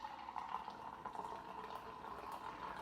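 Homebrewed stout beer is poured hard into a glass, a steady close gurgling and fizzing rush of liquid lasting a few seconds, quiet and without speech.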